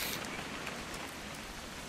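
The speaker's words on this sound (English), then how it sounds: "It's gonna rain the whole weekend, isn't it?" Soft steady rain in What Remains of Edith Finch, a faint continuous hiss with a few light patters scattered through it, quiet and without talking.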